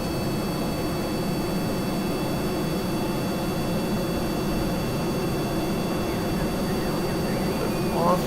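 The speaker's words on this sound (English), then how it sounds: "Okay, let's go. We are off. Doesn't look like we're quite straight on the runway here, Jeb." A spacecraft rolls down the runway for takeoff in Kerbal Space Program, a steady roaring engine drone with a constant rushing hiss at an even volume, with someone talking over it.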